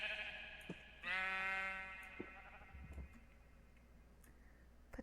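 Sheep in the Minecraft video game bleat in one clear, sustained call over a faint steady background, with scattered small clicks around it.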